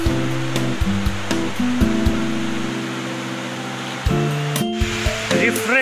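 A hidden waterfall tumbling down in three or four steps roars steadily as a broad wash of water noise, overlaid by tonal music.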